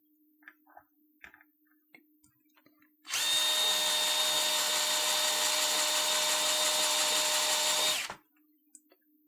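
A power drill bores through a board, whirring loudly and steadily for about five seconds, starting and stopping abruptly, with faint knocks and handling noises before and after.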